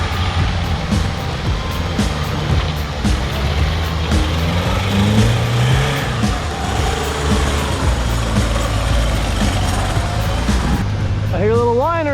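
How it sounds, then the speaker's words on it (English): An off-road Jeep on a seaside trail in Maui runs with a steady low engine rumble, and a thin whine rises from under the hood toward the end. "I hear a little whine under that hood."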